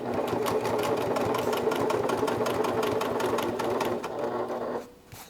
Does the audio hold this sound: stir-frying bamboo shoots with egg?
no